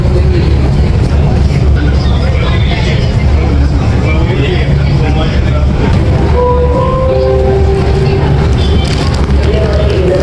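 Loud, steady rumble of a metro train in an enclosed underground station about 84 metres deep in Russia, with a rising electric whine and faint voices throughout.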